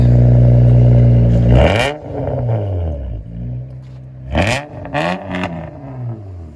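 A 2000 Honda Accord Coupe V6 with straight-pipe exhaust, heard close and loud. A steady idle drone swells into a couple of sharp revs that fall away, then a quick second burst follows.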